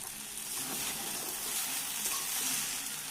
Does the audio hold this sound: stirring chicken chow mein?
yes